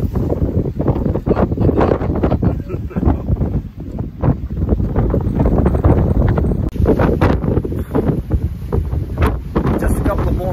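Strong wind roars and buffets the microphone aboard a sailboat making about 8 knots, with water rushing along the hull; the blustery noise stays loud and continuous while people talk over it.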